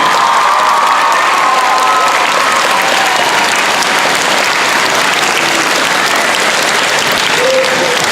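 An outdoor crowd at a Civil War Days event gives a band a dense round of applause, with some cheering mixed in; the clapping stays loud and continuous throughout.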